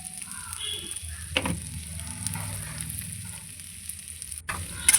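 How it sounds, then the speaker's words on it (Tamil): Potato pieces fry in hot oil in a pan, a soft steady sizzle with a few sharper clatters of stirring, heard up close with a brief bit of background voice. "கொஞ்சம் முருக உருளைக்கிழங்கு நல்லா முருக வதக்கிட்டு"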